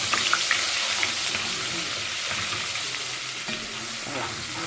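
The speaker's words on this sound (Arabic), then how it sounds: "الزيت بتاعنا سخن اهو، هنروح حاطين التوم بتاعنا" Garlic fries in hot oil in a pot, a dense steady sizzle with a few crackles and pops near the start, close and even throughout without speech.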